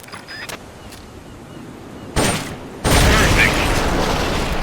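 M16 assault rifle fire in the Metal Gear Solid game: a sharp burst of rapid shots, then a sustained loud stretch of gunfire over a dense game background.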